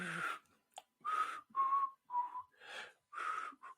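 A person whistles the tune Three Blind Mice in a clear, close series of short separate notes with brief pauses between phrases, alone with no talking.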